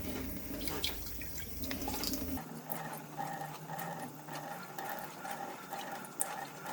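Water runs from a tap and splashes into a small measuring cap for a sugar soap mix, a steady trickle with light dripping and clinking, close by and fairly quiet.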